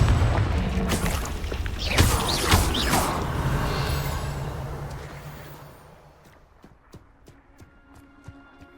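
A Confringo spell explosion in the video game Hogwarts Legacy bursts loudly, rumbling and crackling for several seconds before fading into quieter scattered knocks and clicks.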